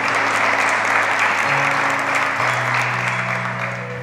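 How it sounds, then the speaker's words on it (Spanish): Church congregation claps steadily during a sermon, a full, even round of applause over sustained keyboard chords that shift pitch, easing off slightly toward the end. "¿Cuántos lo aplauden?"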